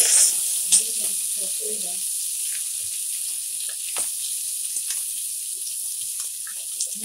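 Seasoned peppers, thyme, salt and curry powder sweating down in a pan give a steady, bright sizzle throughout, with occasional soft stirring clicks and crackles.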